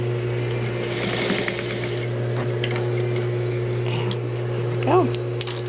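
A sewing machine stitches slowly along a dining chair slipcover, a steady mechanical hum with a faint rapid needle patter, fairly quiet and without talk.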